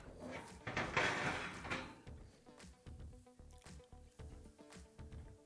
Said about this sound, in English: and then we'll put the door back on.